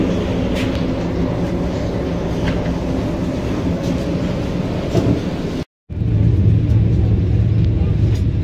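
A Vande Bharat Express train running between Pune and Kolhapur, heard from inside as a steady loud rumble with faint rhythmic clatter, briefly cut to silence before the rolling noise resumes.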